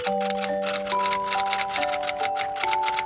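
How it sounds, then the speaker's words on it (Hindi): A typewriter clacks at full volume in quick, rhythmic bursts of sharp keystrokes, with steady music tones underneath. "रात को जब कोई सो रहा होता है, typewriter full sound mode on रखना।"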